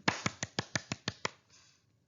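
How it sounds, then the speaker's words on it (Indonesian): Seven sharp, evenly spaced claps ring out in a quick run inside a school classroom, followed by a faint trailing murmur as they stop. "Tepuk tangan untuk"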